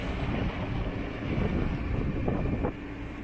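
Breezy wind buffeting the microphone beside a river while cruising by narrowboat, a steady low rumbling gust with faint water noise, fairly loud and continuous.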